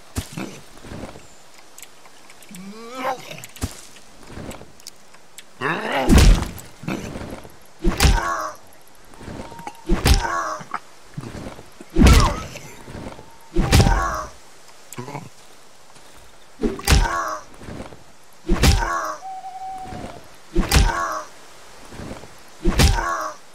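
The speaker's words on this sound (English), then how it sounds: "Throwing rocks at me." Rocks thrown by enemies thump and thwack against the player in the Darkwood survival horror game, a dozen sharp impacts spaced a second or two apart, loud and near over quiet ambience.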